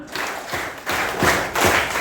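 A group claps in unison for the fifth count of a counted clap routine at a community visit. Several sharp, close claps land in an even rhythm, and no one speaks over them.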